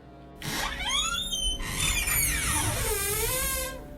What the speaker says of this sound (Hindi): अचानक भोले के कमरे का दरवाजा खुलता है।